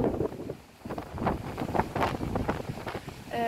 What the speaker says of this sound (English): It's really windy, as you can tell.